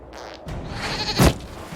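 A goat bleats in Dragon Age: Inquisition, one loud, brief, close bleat standing out from faint game ambience, with no talking.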